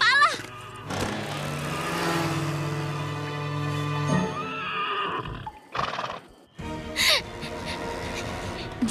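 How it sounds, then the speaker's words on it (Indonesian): Cartoon sound effect of a moaning headless horse, a long wavering whinny-like groan that swells and fades, followed by short gasping bursts and a final whinny near the end; loud and close. "Dan itu adalah rintihan kuda tanpa kepala."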